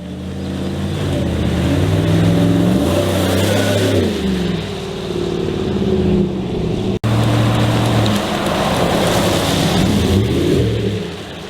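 A GMC Sierra Black Widow pickup with a Gibson exhaust revs loudly and close, its deep engine note rising and falling through several throttle blips, briefly cutting out before rumbling on again.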